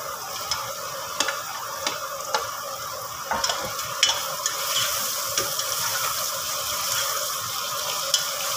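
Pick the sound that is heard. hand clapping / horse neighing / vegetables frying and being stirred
vegetables frying and being stirred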